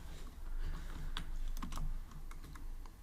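Java code being typed on a computer keyboard, a quick irregular run of close, crisp key clicks with soft background hum and no speech.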